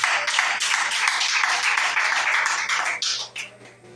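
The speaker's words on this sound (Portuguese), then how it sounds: "Glorifique Ele com tuas palmas." A church congregation at a Portuguese-language worship service claps together, with a dense, continuous patter of many hands that stays loud and even before thinning out near the end.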